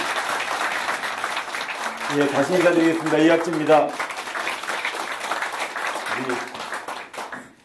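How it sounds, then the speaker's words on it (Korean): Audience applause welcomes a politician, an assemblyman, at a local Seo-gu gathering, a steady wash of clapping running the whole clip while someone speaks over it through a microphone. "뜨겁고 힘찬 박수로 맞아주시기 부탁드리겠습니다"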